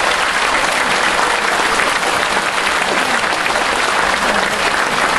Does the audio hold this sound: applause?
yes